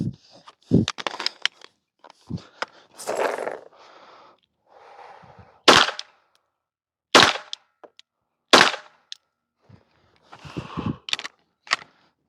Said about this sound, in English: We will then take a kneeling position and put another 3 rounds on target.